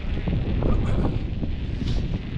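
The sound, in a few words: wind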